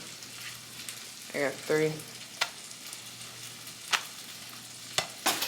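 Sausages frying in a pan for breakfast tacos, a soft steady sizzle with occasional sharper clatters of utensils against the pan, fairly quiet, with someone speaking briefly.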